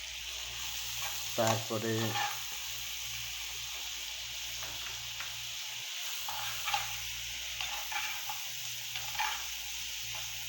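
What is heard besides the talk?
ginger and garlic frying and being stirred in oil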